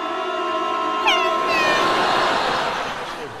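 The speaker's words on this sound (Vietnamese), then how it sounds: "Thì bạn mèo hoa xuất hiện." Cat meows rising and falling over a continuous bed of tonal sound and background noise, fairly loud and close, in a TV talent-show setting.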